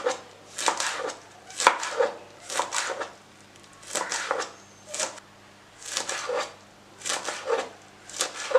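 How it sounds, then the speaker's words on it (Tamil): A knife finely chops kale on a board in quick bursts of rapid strokes separated by short pauses, close and fairly loud with no one talking. "நம்ம சுற்றி நம்ம கட் பண்ணோன்னா நல்லா ஃபைனாக நம்ம சாப் பண்ணலாம்"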